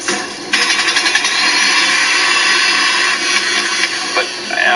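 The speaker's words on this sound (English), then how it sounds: "grinder just seizes up" A meat grinder runs loud and steady, grinding beef shoulder with a harsh, continuous motor whine that starts abruptly and drones on to the end.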